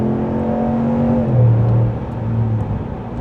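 A 2026 RAM 1500 pickup with a Hemi V8 drops a gear and picks up speed on the road, a steady engine drone stepping down in pitch then rising again, heard from inside the cab at moderate level.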